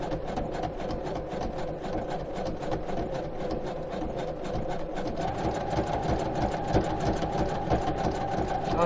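A sewing machine stitches a patch onto badly torn denim jeans, with rapid, regular needle pulses over a low motor hum, close up and steady throughout.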